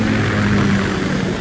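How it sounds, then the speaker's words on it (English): A Ka-60 Kasatka helicopter in Metal Gear Solid 2 drones loudly and steadily, a close, continuous rotor and engine roar with a low hum and no voices over it. "Kasatka? Kamov chopper, right?"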